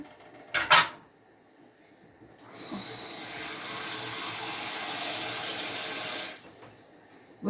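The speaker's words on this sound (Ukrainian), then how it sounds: "Наберу водички." Water runs from a kitchen tap into a pot in one steady, moderately loud stream lasting a few seconds, preceded by a brief clank of cookware and cut off as the tap closes.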